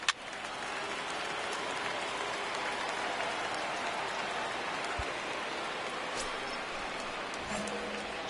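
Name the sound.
rain falling on baseball stadium in video game MLB The Show 19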